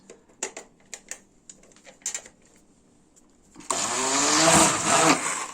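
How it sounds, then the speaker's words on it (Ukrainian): A few light clicks and taps, then a blender whirs on loudly and runs steadily, its motor churning through soft cooked pumpkin. "починаємо блендером його збивати"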